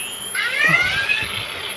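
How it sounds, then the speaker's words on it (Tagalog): An alarm clock set by a sleeping teenager's ear rings with a shrill, continuous electronic tone, loud and close, with no talking over it. "Nilagay ko na yung alarm clock niya."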